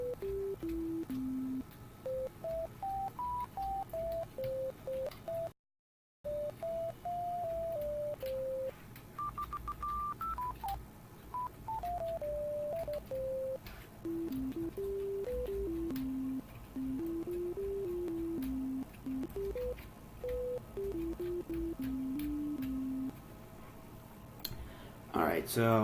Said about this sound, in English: that's only a monophonic sine wave type instrument